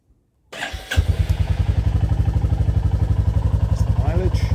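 A Royal Enfield Classic 350 motorcycle engine starts after a brief silence, then settles into a loud, steady single-cylinder thump close by.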